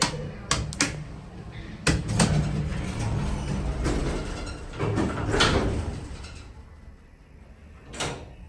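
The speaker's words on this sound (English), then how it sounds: "All right, let's close the door quick." A GAL hydraulic elevator door at a Houston Central Market closes roughly, giving a series of sharp clunks and knocks over a grinding slide, with a final thud after a short quiet gap.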